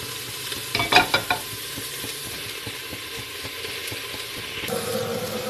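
A pan heats and sizzles before salmon goes in for frying, a low steady hiss with a short cluster of scraping, clattering knocks near the start, no talking.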